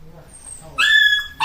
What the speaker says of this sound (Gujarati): કૂતરું.